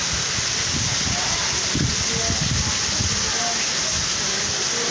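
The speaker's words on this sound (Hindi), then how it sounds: "बारिश भी तूफानी बारिश रुक रही है।" Stormy rain pouring down steadily over flooded streets in a residential neighbourhood, a constant loud wash of broadband hiss with low rumbling, with a voice talking faintly underneath.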